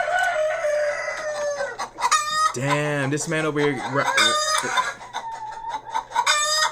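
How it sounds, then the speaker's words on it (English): Chickens cluck and a rooster crows loudly nearby, with repeated squawks over a steady hum, and someone speaks briefly at the start. "Leave them chickens alone."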